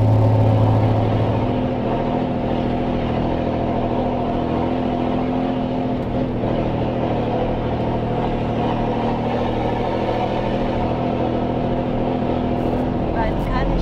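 An Iveco 4x4 expedition truck climbs slowly uphill at 2,160 metres, its engine giving a steady, low, close drone, with voices talking over it.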